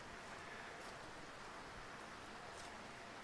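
Rain falling steadily outdoors in San Pedro House, Arizona, a dense, even hiss of drops spattering on surfaces that continues unbroken and with no voices.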